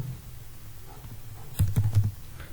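Keys on a computer keyboard clatter in a short, quick burst of typing while a program is being written, the taps close and fairly soft over a quiet room hum.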